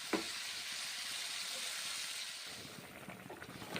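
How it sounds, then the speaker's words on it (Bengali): Spices are stirred through cauliflower frying in a pan, giving a continuous sizzle with scraping stirring strokes that grow busier near the end; quiet overall and free of speech. "আবার নেড়ে চেড়ে নিচ্ছি মশলাগুলো। কপির ভেতরে মশলাগুলো ঢুকে যাবে"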